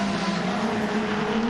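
Race cars circle a racetrack in a 10-lap heat race, their engines a steady, loud, continuous drone with a sustained pitched whine throughout and no voices.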